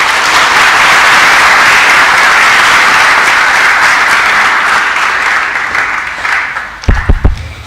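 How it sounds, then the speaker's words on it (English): Sustained, loud round of applause from a summit audience welcoming a guest onto the stage, a dense wash of clapping that thins toward the end, with a few louder thumps at the close. "Can we have a huge round of applause for him?"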